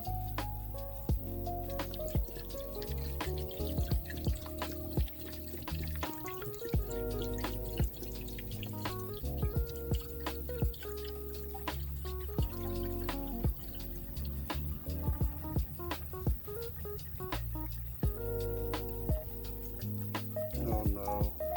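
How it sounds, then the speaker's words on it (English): Water is poured into a Mazda engine, giving a close, busy run of drips, splashes and gurgles throughout, with a few faint background sounds. "And we're gonna pour this water in."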